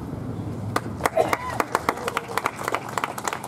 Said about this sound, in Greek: δεν χρειάζεται χειροκροτήματα